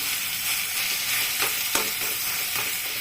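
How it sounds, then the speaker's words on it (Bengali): Pointed gourd (parwal) curry fries in a pan as a spatula presses and stirs it, giving a continuous close sizzle with a few soft scraping strokes and no talking. "খুন্তিটা দিয়ে না এরকম একটু ভেজে দিবেন, তাহলে একদম মজে যাবে"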